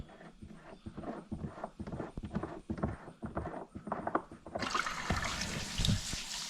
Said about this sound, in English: Take your plug out, put it here in your pouch so you don't lose it, and drain out all of this water.